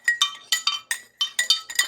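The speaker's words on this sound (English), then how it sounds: "It's not clinking enough." Glasses clink together in a quick run of about eight bright, ringing taps, close and clear with brief gaps between them.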